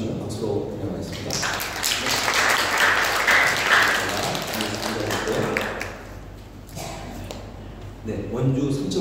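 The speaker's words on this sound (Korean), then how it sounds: "잠깐만 일어나 주시면 박수로 환영하겠습니다" Congregation applause welcoming visiting families during a Sunday church service, a sustained, fairly loud clapping that swells and fades over several seconds, with a voice speaking through and after it.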